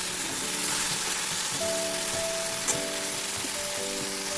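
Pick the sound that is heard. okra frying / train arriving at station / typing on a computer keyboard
okra frying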